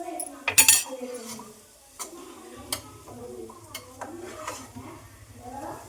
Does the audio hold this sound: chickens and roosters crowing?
no